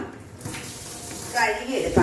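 Peeled tapioca and plantain are washed in water, giving a close splashing and running-water sound that swells toward the end, with a person talking over it.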